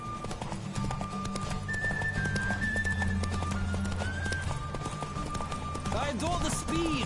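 A horse in The Witcher III: Wild Hunt gallops with a driving, continuous hoof rhythm over game music, and a voice speaks over it near the end.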